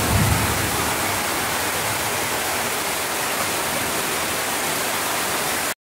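Water poured into a pan of sautéed potatoes and spices for a Bengali banana-flower kofta curry, a loud steady rushing hiss that runs evenly for several seconds and then cuts off, no talk.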